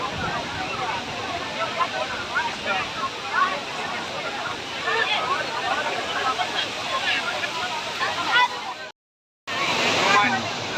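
Water flowing steadily at a scenic outdoor spot where a child sits playing in it, a continuous rushing wash that cuts out briefly near the end, with people talking over it.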